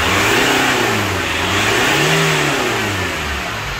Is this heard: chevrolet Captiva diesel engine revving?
yes